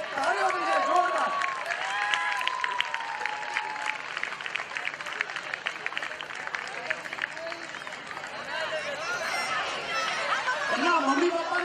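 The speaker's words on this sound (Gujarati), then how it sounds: "એકવાર ખરેખર એમના માટે તાળીઓ કરી છે જોરદાર" Audience at a Sharad Poonam festival applauds two girls on stage, a dense patter of clapping mixed with crowd chatter, while someone speaks over it at the beginning and end.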